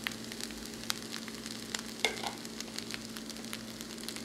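Egg fried rice with frozen green peas stir-fried in a pan, a soft sizzle broken by repeated scraping and clicking of a spatula, with one sharper knock midway.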